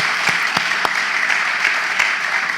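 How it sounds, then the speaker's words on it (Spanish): Church congregation applauding steadily and loudly, a dense wash of clapping with a few sharper individual claps standing out, no voices over it. "Un fuerte aplauso para todos ellos, por favor."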